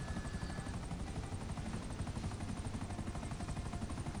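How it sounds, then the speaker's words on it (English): Helicopter in a video game flying steadily, a loud continuous rotor drone with rapid chopping pulses throughout, no voices. "Steady the chopper."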